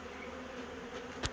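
Honey bees swarming into a bee house, heard as a steady, dense buzzing drone that continues unbroken at close range, with a brief louder buzz near the end and no voices.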